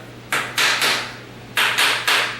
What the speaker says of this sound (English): use a hammer, put a little elbow grease in